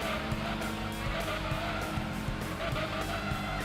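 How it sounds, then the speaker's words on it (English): A stage-2 turbo car in Gran Turismo 2 slides through corners, its engine droning steadily with a strained, buzzing tone while faint tire squeal rises and fades underneath, continuous and unbroken throughout. "It wants to slide so easily."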